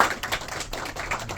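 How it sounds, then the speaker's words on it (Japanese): An audience claps at a church gathering, giving a fairly quiet but dense burst of applause that fills the whole short moment. "それでは大きな拍手お願いします"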